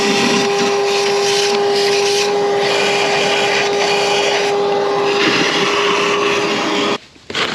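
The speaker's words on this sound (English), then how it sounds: "now we're going to vacuum all of this out" A vacuum cleaner runs with a steady high whine and a rushing, hissing suction, close and loud, cutting out briefly near the end before starting again.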